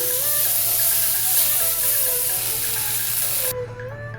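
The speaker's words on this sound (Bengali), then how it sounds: "হলুদ দিয়ে কিছুক্ষণ ভেজে তুলে দিচ্ছি" Aubergine frying in hot mustard oil with turmeric gives a steady, close sizzle that runs evenly throughout, with a faint hum in the background.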